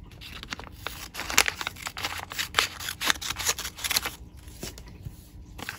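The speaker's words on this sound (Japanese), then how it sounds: "ハサミで切ります" Scissors snipping through folded origami paper, a quick series of sharp, close cuts and crisp paper rustles in an irregular rhythm.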